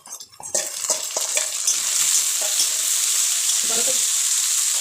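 Tomatoes dropped into a pan of lightly fried onions, a few clattering knocks and stirring scrapes at first, then a loud, steady sizzle that fills the rest of the clip.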